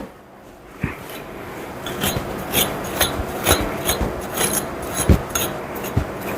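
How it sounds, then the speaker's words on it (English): Steady rasping, scraping strokes of a dematting tool cutting through a Sheltie's tangled hair repeat in a sawing rhythm, close up, with occasional sharper snags. "come back with this tool, run it through there, and that'll cut through any tangles there are"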